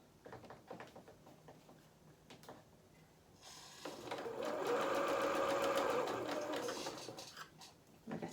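A sewing machine stitches a fur-trimmed hat, running in a steady loud burst through the middle after softer intermittent handling and short stitching spurts, with quiet mechanical clicks at the start and end.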